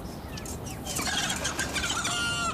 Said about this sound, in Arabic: فين الديك؟ الديك اهو يا باشا